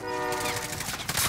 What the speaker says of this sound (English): Train? Train? don't get run over now.